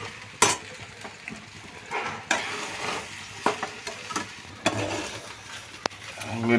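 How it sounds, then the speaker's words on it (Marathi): Sago pearls stirred and sautéed in a pan, with a steady frying sizzle and repeated scraping and clinks of a spoon against the metal, several sharper knocks standing out, close and fairly loud with no talking. "जास्त वेळ तसंच ठेवायचं आणि त्याला हलवत राहायचं साबुदाण्याला."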